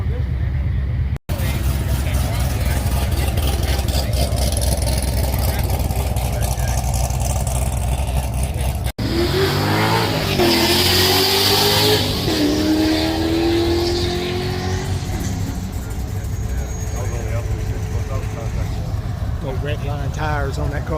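Car engines rumble and rev loudly, rising in pitch as vehicles pull away, with voices talking over the engine noise throughout.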